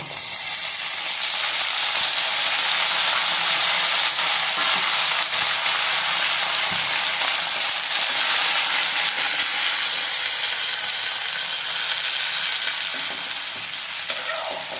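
Pirandai (adamant creeper) fries in a hot pan in a loud, continuous close sizzle with a bright hiss that stays steady throughout, no voices.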